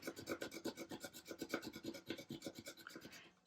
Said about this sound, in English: sometimes if you take your weeding tool and use the rounded corner